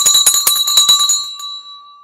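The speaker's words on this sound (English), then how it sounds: "I got the bell on time." Stock market closing bell, a rapid run of bright metallic strikes for about a second, loud and close, then a clear ringing tone that slowly fades.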